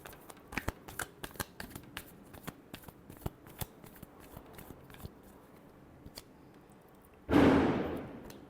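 Tarot cards shuffled by hand, a run of soft riffling flicks and taps close to the microphone, ending in one louder, longer riffle burst near the end.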